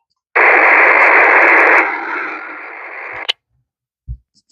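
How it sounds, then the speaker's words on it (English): A P25 digital radio transmission picked up on an FRS radio comes through as a loud, harsh, buzzing burst of about three seconds that shifts tone midway, then cuts off abruptly with a click, followed by near silence. "It's almost as an interference when it comes to DMR, but this is P25, and then we'll go to DMR. P25 is right here."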